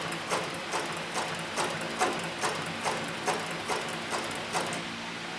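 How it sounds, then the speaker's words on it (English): A leather sewing machine on a servo motor stitches very slowly with thick thread and a large needle, giving steady, evenly spaced mechanical clacks about twice a second over a low motor hum, close by, with no talk. "this right now is as slow as the motor will go, and you can see the stitching is very, very slow, very, very controlled"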